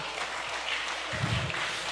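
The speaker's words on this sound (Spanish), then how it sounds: "De dar un aplauso fuerte al Rey." Church congregation applauding at a Christian service, a broad steady wash of clapping that swells briefly near the end, heard on its own without talk.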